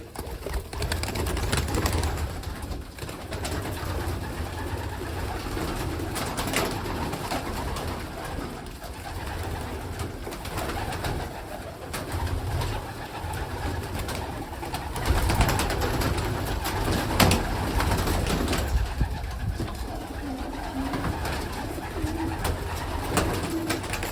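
Many homing pigeons coo continuously in a dense, low murmur, with rustling and scattered fluttering throughout an enclosed pigeon loft.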